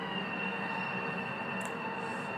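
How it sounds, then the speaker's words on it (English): A Long Island Rail Road train pulls into a station with a steady rumbling hum and a sustained high whine, heard close and continuous with no talk. "But here's our train."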